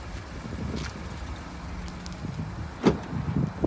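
Tailgate of a 2015 Ford F-150 Lariat pickup lowering by remote outdoors, a steady low mechanical hum with a sharp clunk near the end as it settles, wind noise in the background.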